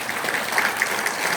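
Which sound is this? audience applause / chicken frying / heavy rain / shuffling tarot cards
audience applause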